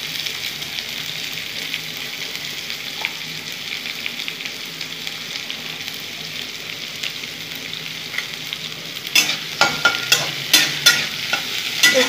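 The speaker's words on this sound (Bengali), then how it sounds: "পেঁয়াজগুলো ভেজে নেব।" Large onions frying in a pan, steady close sizzle throughout, then a burst of scraping stirring strokes with sharp clatters in the last few seconds.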